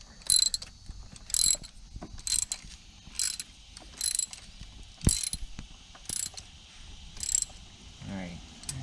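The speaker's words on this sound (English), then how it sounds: "Alright, snug. I'll torque it down." Ratchet wrench torquing down the AC compressor bolts on a BMW 528i, close repeated bursts of rapid clicking in a steady rhythm with short pauses between strokes, soft background noise underneath.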